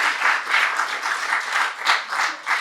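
An audience at a live music recording session breaks into steady, fairly close applause, a dense patter of many hands clapping for a few seconds without a break.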